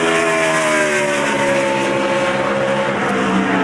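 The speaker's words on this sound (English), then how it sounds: "And Josh Wise is going to lock himself into the field with that lap." A NASCAR Sprint Cup stock car screams through a qualifying lap at Loudon, its V8 engine a loud, continuous, close roar with steady harmonic tone throughout, no talk over it.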